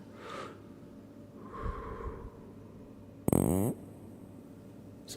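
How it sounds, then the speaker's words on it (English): Water-filled gloves squish and squelch at close range: a few soft wet squeezes, then a sharp, loud rubbery squeak-burst in the middle and a brief final squish, with quiet pauses between. "And you can't have the water gloves without this sound."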